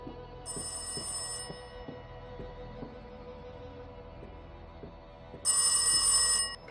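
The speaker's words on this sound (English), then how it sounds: "Is the phone ringing again?" Telephone ringing in the indie horror game Rise of Insanity: two bursts of bright electronic bell ringing, the first from about half a second to one and a half seconds, the second louder near the end, over a low rhythmic ambient drone.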